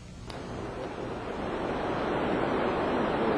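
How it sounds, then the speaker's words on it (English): Water rushing and splashing down a waterfall, a steady broadband roar that holds at a constant loud level and builds slightly, with no voices. "The water in this waterfall is in motion because it's in the gravitational field of Earth."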